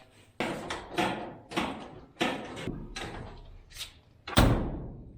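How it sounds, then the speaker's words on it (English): A door on a 1967-1972 Ford F100 pickup is worked repeatedly, giving a series of loud, close thumps and latch knocks roughly every second, ending in one heavier slam. "Open the door, we can get these nuts on this side."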